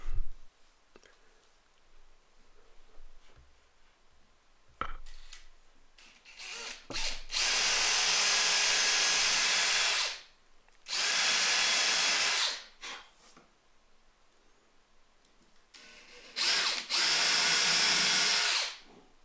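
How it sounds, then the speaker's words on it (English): A power drill whirs loudly drilling holes in wood in three sustained bursts, each lasting a couple of seconds, separated by quieter pauses with faint handling clicks. "Drill the holes."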